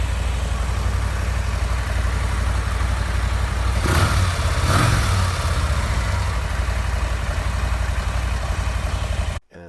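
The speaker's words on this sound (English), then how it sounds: "I had the salesperson turn on the Lowrider S for me," A Harley-Davidson Low Rider S on its stock exhaust idles loud and close with a deep, steady rumble. It swells briefly in two blips near the middle, then the engine cuts off abruptly at the end.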